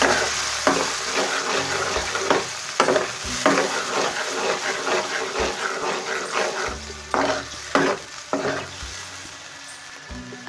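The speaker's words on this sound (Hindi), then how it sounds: "अच्छी तरह से इस पेस्ट को पकाएंगे ताकि टमाटर का जो कच्चापन है वो निकल जाए" Tomato paste frying in half a cup of ghee in a frying pan, with a loud, continuous close sizzle broken by repeated thumps and scrapes of a spoon stirring through it.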